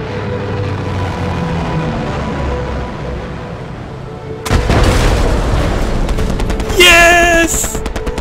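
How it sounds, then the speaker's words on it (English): In the Hell Let Loose video game, an anti-tank mine detonates under a tank, producing a sudden heavy boom midway through a low rumbling battlefield din. Clattering debris and bursts of gunfire follow close after. "Guys, I managed to destroy the tank with the anti-tank mines."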